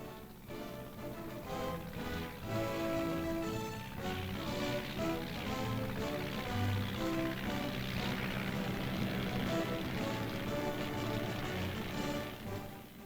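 Radio-controlled target planes climb skyward in a steady stream, heard as a faint, continuous propeller drone with shifting buzzy engine tones over a soft wash of background noise.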